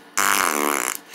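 A single fart sound effect, added into a movie edit, gives one loud, close, sputtering blast about a second long that breaks up toward the end.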